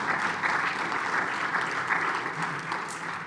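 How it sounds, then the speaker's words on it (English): Audience applause at a plenary debate, with steady, fairly dense clapping from a crowd in a hall, sustained evenly for a few seconds with no voices over it. "Let's give them a round of applause."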